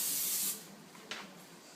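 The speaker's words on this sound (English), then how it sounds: "So all you do is you just spray it out with it." Cooking spray hisses into a pan for spicy popcorn: a loud, steady half-second burst up close, then a second, shorter and fainter spurt about a second later, with no talking.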